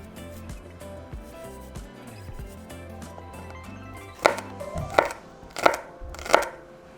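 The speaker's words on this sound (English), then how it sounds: "So we're just going to mince our garlic clove." A knife minces a garlic clove on a cutting board, first with soft muffled taps under background sound, then four loud, crisp chops at a steady rhythm close by.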